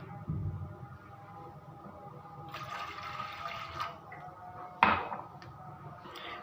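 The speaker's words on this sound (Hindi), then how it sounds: "सबसे पहले एक पैन में मैंने डालने हैं 3 गिलास पानी" Water pours into a cooking pan, a soft broadband gush that continues for several seconds, with a sharp clunk partway through, fairly quiet and with no talking.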